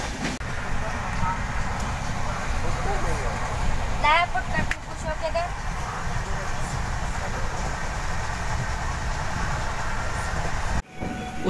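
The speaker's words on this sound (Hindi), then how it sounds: "सामने से कोई ट्रेन क्रॉस करते जिसे कि हमें नहीं पता" A train rumbles past on the opposite track, heard from inside a moving GKP-Mailani Express coach: a loud, steady roar that holds throughout, with faint voices in the background.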